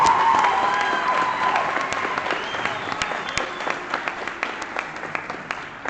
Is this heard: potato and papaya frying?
no